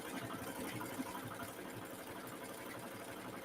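A sewing machine runs along a seam of holiday pajama fabric, giving a faint, steady mechanical whir and rapid needle chatter that continues unbroken throughout.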